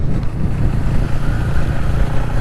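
A motorcycle rides through open countryside, its engine a continuous loud rumble mixed with heavy wind buffeting, steady throughout with no talking.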